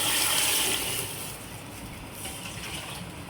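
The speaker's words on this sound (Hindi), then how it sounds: "तो सादा पानी डालेंगे।" Plain water poured into a cooking pot for rice, a steady splashing gush that is louder at first and then settles into a softer continuous trickle.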